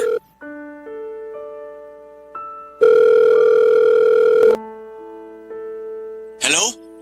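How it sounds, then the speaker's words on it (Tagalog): A telephone rings in a series of electronic tones, with a long loud burst in the middle and a short bright chirp near the end, alone in a quiet room. "Ayun, nag-ring."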